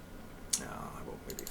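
Computer mouse clicks while working in Microsoft Word: a single sharp click, then a quick run of three light clicks shortly after, close and faint, with soft talking around them.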